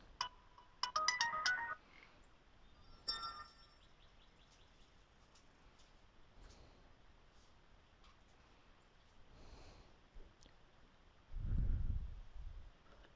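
A mobile phone ringtone plays briefly as a bright, tinkling electronic melody, loud at first and then fading. Quiet room noise and a few soft rustles follow.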